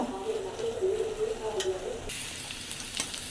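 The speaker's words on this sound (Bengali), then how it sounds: "শাক বাগারে কিন্তু শুকনো মরিচ দিয়ে দিচ্ছি সিরা দুটা আর হচ্ছে রসুন কুচি" Dry red chillies, cumin and chopped garlic hit hot oil for a spinach tempering, bursting into a sudden loud, hissing sizzle partway through that keeps crackling steadily after a quieter opening.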